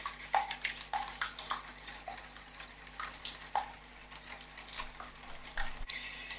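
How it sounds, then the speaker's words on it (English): A mushroom and spinach quiche filling is whisked in a bowl, giving quiet, uneven sloshing strokes and light taps against the bowl, heard close with no talking. "So I'm going to whisk all this together."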